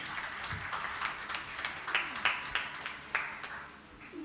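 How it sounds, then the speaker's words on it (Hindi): An audience at a religious gathering with a Jain monk claps in a scattered, uneven burst of applause, moderately loud, with individual claps standing out as it tapers off. "एक बार जोरदार ताली बजा दीजिए।"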